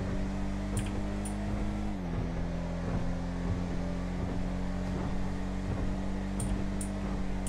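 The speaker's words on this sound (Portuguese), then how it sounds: "Nossa, dá pra escutar o carro tremendo por dentro" A Bravado Gauntlet Classic muscle car in GTA V cruises at speed with its interior shaking and rattling. A steady engine drone holds throughout, dropping slightly in pitch early on, with a rough broadband rumble and no talking.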